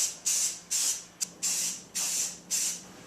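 A spray can lays a light first coat of paint over adhesion promoter on a Subaru STi headlight, sending six close hissing bursts in a steady rhythm, one of them very brief.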